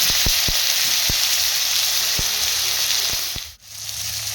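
Chopped tomato hits hot oil already spiced with whole cumin seeds and bay leaf, giving a loud, steady broadband sizzle with a few sharp clicks of the utensil, briefly dipping near the end before the frying hiss returns.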